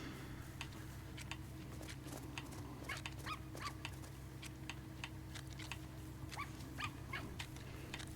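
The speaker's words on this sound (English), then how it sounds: "My little doggy's yapping away." A small dog yaps in quick bursts of repeated high barks at moderate distance, over a low steady hum.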